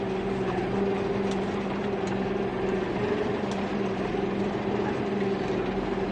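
A New Holland T4.75S tractor rolls along a rough road in second gear at about 7 km/h, its engine a steady low drone with a constant hum throughout, heard close from the cab.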